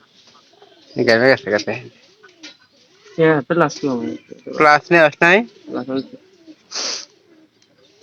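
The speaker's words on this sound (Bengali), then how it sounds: "নতুন এক জোড়া কবুতর নিয়েছে, 8টা 9টা দিয়ে" A newly bought pair of pigeons coos softly in the background while people talk loudly and continuously over them.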